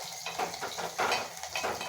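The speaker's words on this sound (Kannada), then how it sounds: "ಒಗ್ಗರಣೆ ಸ್ವಲ್ಪ ಚೆನ್ನಾಗಿ ಬೇಯಲಿ." Onion, garlic and curry leaves in a hot oil tempering sizzle in a pan, with rhythmic stirring scrapes and light clatter of a spoon against metal, close and fairly loud.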